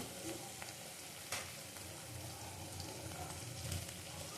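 Turmeric, chilli and Kashmiri chilli powders for a prawn curry sizzle and fry in a pan, a steady close crackling hiss with occasional stirring scrapes and clinks.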